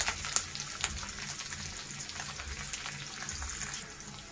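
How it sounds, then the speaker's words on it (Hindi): Sliced onion sautés gently in a pan, a soft, continuous sizzle and crackle with light scattered pops, fairly quiet and close, with no talk over it. "तो चलिए अब हम इसे हल्का सोटे होने तक भून लेते हैं।"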